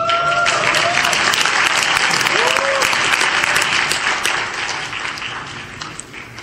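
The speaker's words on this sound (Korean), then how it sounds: "제가 얘기할 때는 마음껏 환호를 지르셔도 좋습니다." A large audience at a Korean-American freedom and friendship evening event applauds loudly and cheers, with a few voices calling out over the clapping before it slowly fades.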